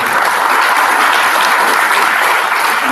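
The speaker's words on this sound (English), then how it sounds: "Please, everybody join us and join me in applauding." An audience at a ceremony claps in dense, steady applause that fills the whole moment, loud and sustained, with no voices on top.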